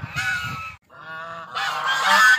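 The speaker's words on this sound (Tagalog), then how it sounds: "Yung mga gansa, yung mga manok" Domestic geese honk loudly and close by in a farmyard pen alongside chickens: a harsh burst of honks, a brief pause, then a longer nasal call followed by a rising, overlapping chorus.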